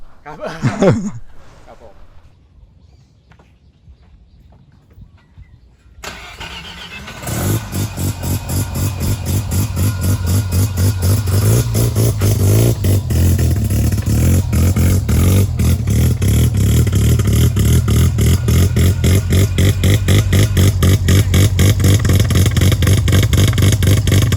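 A Mazda RX-3 with a naturally aspirated bridge-ported 12A rotary engine and Weber carburetor fires up after a quiet opening. It then runs loudly and close with a rapid, choppy pulsing idle that holds steady to the end.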